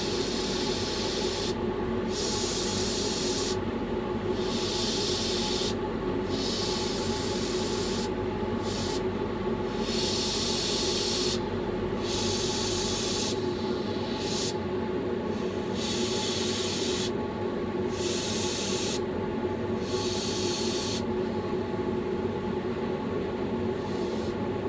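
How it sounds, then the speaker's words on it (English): An airbrush spraying orange paint dots onto a brown trout lure, short repeated hissing bursts of spray over a constant loud compressor drone, close up and without speech. "I've just got some orange in my gun now, in my airbrush. Just going to do a few orange dots."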